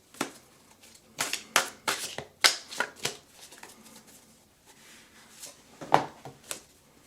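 Tarot cards are shuffled up close in a quiet room, a series of crisp riffling bursts and soft slaps, with brief pauses between shuffles.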